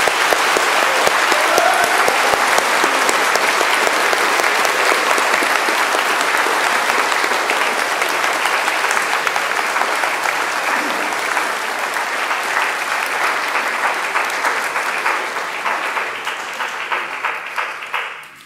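A church congregation bursts into sustained applause at a Catholic confirmation Mass, steady dense clapping filling the space for about eighteen seconds before cutting off at the end.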